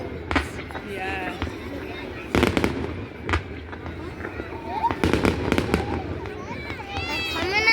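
Fireworks display at Wallsend, with repeated booming bursts, crackling and whistling rockets at varying distance, while people nearby talk throughout.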